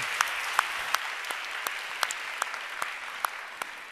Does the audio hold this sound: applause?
yes